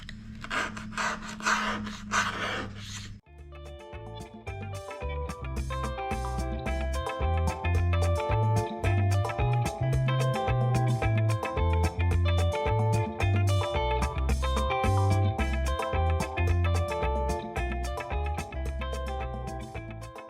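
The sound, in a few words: scraping paint off the back of a mirror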